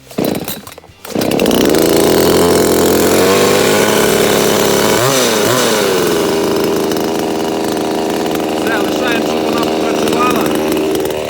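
A Dnipro-M DSG-40H gasoline chainsaw is pulled and its engine catches about a second in, then runs loud and steady close by, with a brief rise in revs midway and a continuous drone to the end.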